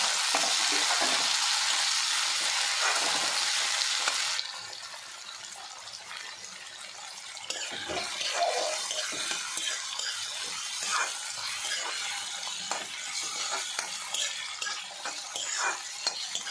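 Loud, hissing sizzle as chopped tomatoes hit hot oil, easing after a few seconds into a steadier crackle with scraping and stirring in the pan.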